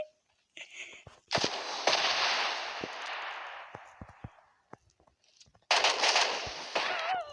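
Bursts of automatic gunfire from a PUBG match crackle in two loud volleys, separated by a quieter stretch of scattered single shots and faint clicks.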